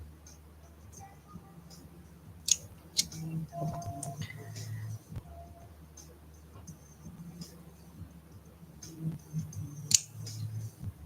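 Scissors trim pieces for an art doll in a series of small, crisp snips spaced irregularly over quiet background, close and fairly faint, with occasional soft handling noises between cuts.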